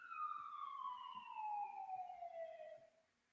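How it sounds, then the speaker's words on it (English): A fire truck siren wails faintly at a distance, its pitch sliding steadily downward as it passes, then fading out at the end. "sirens."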